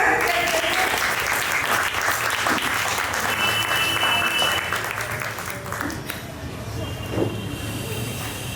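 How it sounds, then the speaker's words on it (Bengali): An audience at a book launch claps steadily and loudly for several seconds, the applause slowly tapering as background murmur remains. "একটা হাততালি"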